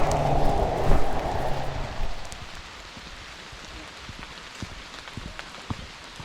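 Light rain patters on a wet, rocky forest trail along the Bruce Trail, a denser wash in the first two seconds thinning to a soft, steady hiss with scattered close drips.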